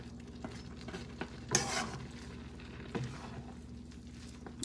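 Cabbage is stirred into pancit canton noodles frying in a pan, with a soft continuous sizzle, one sharp scraping stir and a few lighter scrapes of the utensil against the pan, close by.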